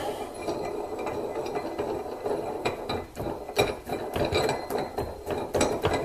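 Tire changer tool mount being screwed down over a wheel rim on a stud, a steady run of metallic ratcheting clicks and clanks, close and continuous.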